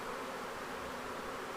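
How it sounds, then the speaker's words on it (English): A honey bee swarm in early spring in Red Bluff, California, being captured, with bees flying close around a person's face. The buzzing is a steady, dense drone that stays even and unbroken throughout. "here I am with bees flying all around my face"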